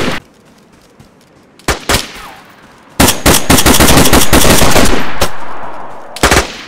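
Automatic gunfire in the video game DayZ, a battle royale match: a few sharp shots, then a loud sustained burst of rapid fire, and another quick shot at the end, with no talk.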